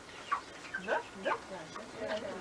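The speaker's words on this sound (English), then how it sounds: "these chickens are going crazy with it on the hemp seed half." Chickens clucking and squawking nearby in short excited bursts while eating hemp seed, fairly quiet, with a bit of outdoor background noise.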